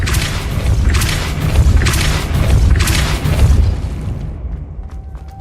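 Depulso spell blasts in the video game Hogwarts Legacy: three heavy, booming bursts in close succession, each with a rumbling low body, fading to near quiet with a few light clicks at the end.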